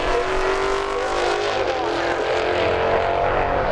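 Heavy Dodge Hellcat drag racing down a dragstrip, a loud continuous engine roar under full throttle, steady and close with a slight rising pitch as it pulls away.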